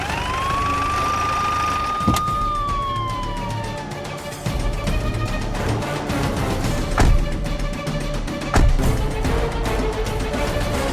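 A police siren wails loudly, its pitch sweeping up and then falling away, with traffic rumble and a few knocks underneath.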